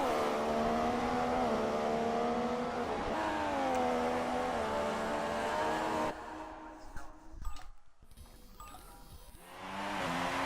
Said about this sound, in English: And the Honda engine lets go.